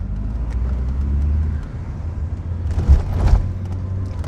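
Car with a freshly rebuilt forged engine pulling away gently in second gear, a steady low engine drone heard from inside with a brief rise and a few knocks near the end.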